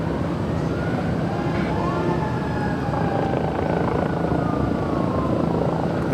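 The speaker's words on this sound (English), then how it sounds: "I can hear the helicopter, that's what you're hearing." Fox 11 news helicopter flying directly overhead at Los Angeles LAX airport, a loud steady rotor thrum and whine that fills the whole clip.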